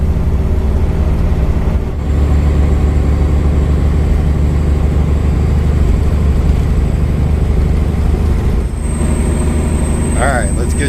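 A truck engine drones loud and steady as the gears are shifted, with a deep low rumble that dips briefly twice and then carries on, while people talk over it.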